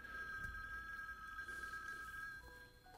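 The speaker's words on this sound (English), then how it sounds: "After all this, then the phone rings." A telephone rings in a quiet bedroom scene from the film Chinatown, a steady trilling bell sustained for several seconds at moderate distance with soft background hiss and no talk.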